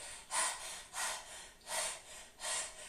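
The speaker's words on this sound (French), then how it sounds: "Respiration pour l'immunité." Four strong, rhythmic breaths of a breathing exercise for immunity, hissy and forceful, roughly every half second to three quarters of a second, close to the microphone with no talking.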